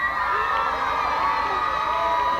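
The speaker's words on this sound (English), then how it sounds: "Kuemper student body getting a little excited down here" A student crowd at a Kuemper high school football game cheers and shouts in a steady, continuous roar that holds at an even level throughout.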